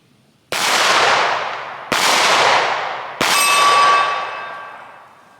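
A Walther PDP pistol fires three rounds at a 10-yard target, three sharp, loud reports spaced about a second and a half apart, each ringing out with a long decay.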